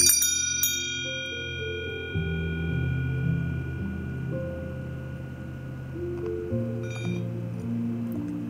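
Small hand bells from a personal collection ring in overlapping layers, sustained tones shifting in pitch as new strikes join, close and fairly loud with no talking.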